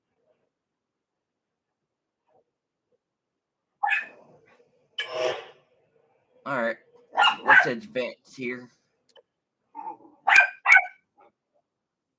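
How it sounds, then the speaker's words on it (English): Dogs bark in short bursts in the background of a room while someone talks over F1 24 racing game sounds, the barks coming in several clusters after a quiet opening. "Sorry about the dogs barking in the background."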